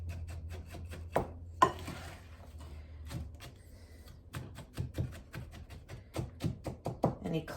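Sharp knife taps chopping clumps of brown sugar on a board while making Christmas almonds, irregular quick strikes with a few pauses and a brief scrape, fairly close and clear.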